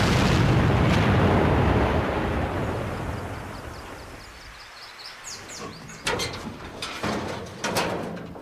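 A loud explosive blast in an armoured vehicle test, a heavy broadband boom at the start that slowly fades over several seconds, followed by scattered sharp cracks and debris impacts.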